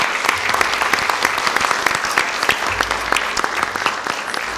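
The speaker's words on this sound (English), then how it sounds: "Just want to give everyone a chance to give those students another round of applause for their artwork." Sustained round of clapping from a room full of people at a school board of education meeting, honoring students for their artwork; dense, steady applause lasting throughout with no talking over it.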